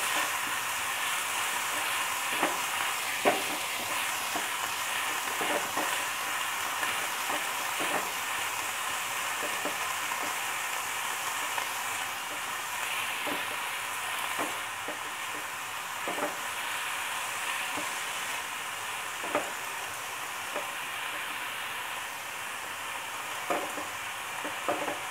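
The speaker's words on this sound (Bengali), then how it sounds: "জাস্ট একটু সতে করে নেবো।" Vegetables sautéing in a pan over lowered heat for a paneer veg roll, a soft continuous sizzle and hiss with intermittent stirring taps spaced through the stretch.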